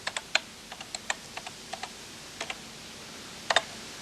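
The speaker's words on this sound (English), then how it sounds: "you'll need to type star tape 3, like this" Keys on a BBC Micro computer keyboard click in a short, irregular run of crisp individual presses, fairly quiet and close, with a pause and a final quick double tap.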